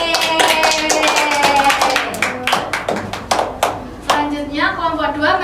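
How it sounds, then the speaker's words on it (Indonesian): Children in a classroom clapping together in a quick rhythmic burst, mixed with voices and cheering, close and fairly loud. "Tepuk tangan."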